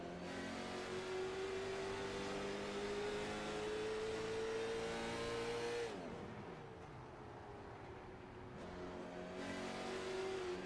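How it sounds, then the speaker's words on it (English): A race car engine at North Wilkesboro holds a steady drone, then drops its revs sharply to a low idle-like hum before building again, steady and unbroken with no talk. "You hear that motor either shutting off or he's dropping the RPMs way"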